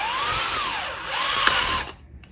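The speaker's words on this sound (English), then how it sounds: "enlist the aid of some power tools for this one." Power drill boring through a part while fitting an F-4E Phantom WSO grip assembly, a loud close whine that rises and dips in pitch for about two seconds and then stops abruptly, with no speech.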